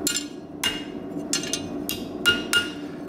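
Blacksmith hammering steel while forming a scroll: sharp ringing hammer strikes, about six of them, spaced irregularly and close, over a low background hum.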